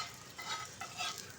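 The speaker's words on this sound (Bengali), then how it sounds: "দেখুন ঠিক একইভাবে এরকম করে ভেজে নেব।" Potato and semolina snacks fry in hot oil with a soft, close, continuous sizzle and bubbling that swells gently twice over a moment.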